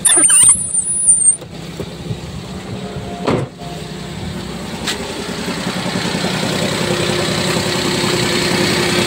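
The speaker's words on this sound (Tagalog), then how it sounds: "Ayan po, ayan, gumagana yung compressor" A Toyota Wigo idles with its air-conditioning compressor running, a steady engine hum that grows slightly louder and rougher over time, with a few brief clicks and knocks near the start.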